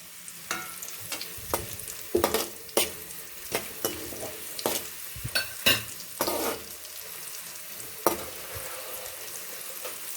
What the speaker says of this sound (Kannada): ಎಣ್ಣೆ ಬಿಸಿ ಆಗ್ತಿದ್ದಾಗೆ ನಾನು ಮಜ್ಜಿಗೆ ಮೆಣಸು ಸಂಡಿಗೆ ಮೆಣಸು ಅಂತ ಏನು ಕರಿತೀವಲ್ಲ ಅದನ್ನು ಒಂದು ಇಪ್ಪತ್ತೈದು ಮೂವತ್ತು ಹಾಕ್ತಾ ಇದ್ದೀನಿ